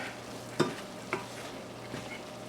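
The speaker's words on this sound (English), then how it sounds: "I'm just going to give this a brief stir in" A spatula stirs hot and spicy taco seasoning through a pan of cooking food, two distinct scraping knocks over a soft, steady sizzle, close and fairly quiet, with no one speaking.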